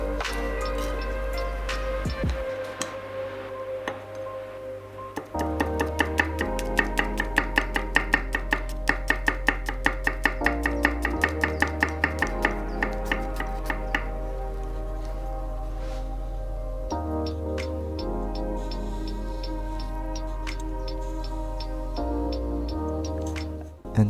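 Garlic being chopped finely with a knife for a spicy pork belly dish, heard as a steady run of quick, crisp blade taps on a board, nearly continuous over a low background hum, with no talking.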